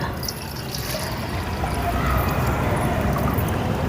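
Water pours steadily into a one-litre bottle, a continuous rushing splash that grows slightly fuller toward the end, with no talk over it.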